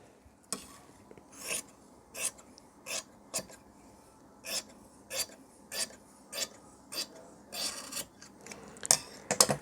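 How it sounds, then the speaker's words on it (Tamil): Tailoring scissors cut shirt fabric for a 50-inch chest shirt with quiet, close snips repeating steadily about every second. "ஸோ அப்போ இதை அப்படியே கட் பண்ணிடலாம்"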